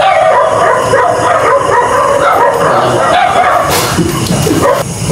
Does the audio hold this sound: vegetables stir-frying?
no